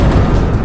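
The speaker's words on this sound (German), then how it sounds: "Geben wir ihm ein paar Schüsse nach hinten ab." A gunshot fired backwards in an animated short film lands as a single loud, dense boom that fills the brief moment.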